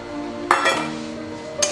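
Pasta tipped into white sauce in a pan, giving two short clinking, clattering impacts against the cookware about a second apart over a low steady background.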